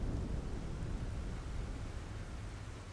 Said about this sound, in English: I think this thunderstorm is quite cool